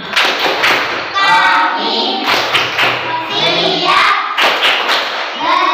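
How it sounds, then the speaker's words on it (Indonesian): Elementary school pupils in a classroom clap in rhythmic, patterned bursts for concentration, with loud hand thuds alternating with children's chanted voices. "sekarang yuk kita mulai dulu dengan tepuk tangannya yuk. Untuk konsentrasi."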